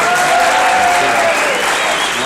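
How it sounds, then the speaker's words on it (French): Studio audience applause on a French television show, a dense, steady burst of clapping from a crowd, loud and sustained for a couple of seconds, with a voice faintly audible underneath. "ça méritait bien ces quelques applaudissements extrêmement spontanés"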